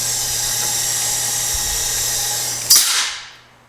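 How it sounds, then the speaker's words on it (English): A power grease gun lubricates the underside of a C3 Corvette with a loud steady whirring drone, ending in a sharp hiss that tapers off into quiet. "And that was the grease gun making. Yeah, that noise."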